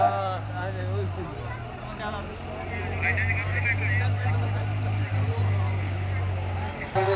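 A tractor pulls a loaded trolley at a towing competition on a farm, its engine a steady low drone throughout under loud, continuous talking by several men.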